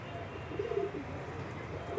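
Pigeons cooing softly and steadily against a rumbling outdoor background, with no clear gaps between calls.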